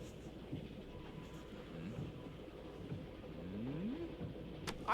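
Steady low rumble inside a moving train in an anime episode, a continuous rolling drone with faint swelling tones near the end and no clear voices over it.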